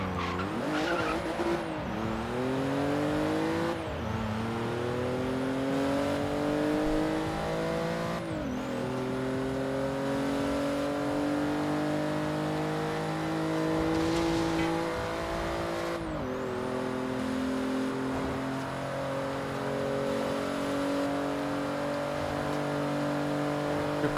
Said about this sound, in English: here's me driving around in i8